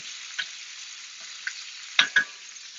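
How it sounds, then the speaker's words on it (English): Quail sears and browns in a frying pan, giving a steady, thin sizzle broken by a few sharp scrapes and spatters, two louder ones close together near the end as the birds are flipped. "we've got the golden brown now going on in the quail. Give it a little flip."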